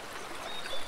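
River water flows in a steady, close, bubbling rush with small splashes, heard alone.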